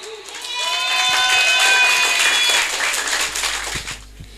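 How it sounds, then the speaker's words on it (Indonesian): An audience at a high school competition final in Kediri applauds a participant, with a burst of dense clapping and some cheering that swells, holds for a few seconds, then tapers off. Faint whistling tones sound early. "mana tepuk tangan sekali lagi buat Diki dari Blitar"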